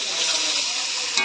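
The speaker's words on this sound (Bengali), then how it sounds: "মাছ ভাজা হয়ে গেল" Fish frying in a pan with a steady, close, dense sizzle that holds evenly throughout, no voices.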